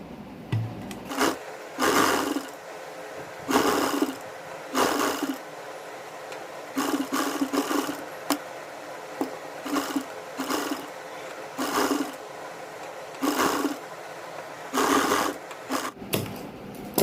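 A sewing machine stitching lace onto a sleeve, close and loud, running in repeated bursts of steady whirring stitching separated by short pauses.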